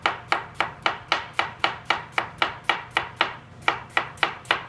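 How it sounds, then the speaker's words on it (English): A knife slices an onion into julienne strips on a cutting board, cutting all the way through. About twenty crisp, evenly spaced chops fall in a steady rhythm, close and clear with no talking. "I'm cutting all the way through for this julienne"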